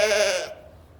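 A single ewe bleats during lambing, one loud, close, wavering call lasting about half a second, then quiet.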